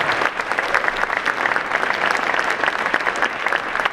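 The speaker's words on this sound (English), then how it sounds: "Let's give Dr. West a big round of applause." A big round of applause from an audience at a community panel on healing, dense steady clapping filling the whole stretch with only faint crowd murmur beneath.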